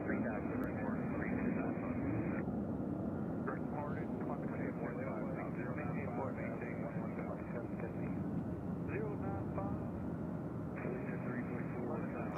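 A McDonnell Douglas MD-80 airliner arriving at Nashville International Airport, its steady engine roar filling the whole stretch at constant loudness while people talk underneath.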